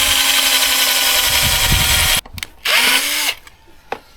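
A power drill whirs steadily for about two seconds while drilling holes for a cucumber trellis, then stops, followed by a shorter burst of drilling and a few clicks.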